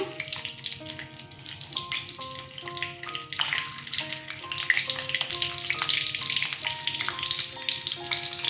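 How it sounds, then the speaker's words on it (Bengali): Green chilli and nigella seeds sizzle in hot oil for a Bengali fish curry, a continuous crackling fizz that grows slightly busier, with soft background music playing beneath. "কাঁচা লঙ্কা কালো জিরা ফোড়ন দিলাম"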